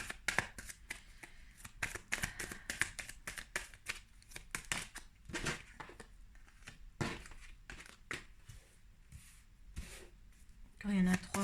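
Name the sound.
tarot cards being shuffled and drawn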